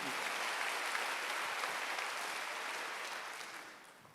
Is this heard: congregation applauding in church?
yes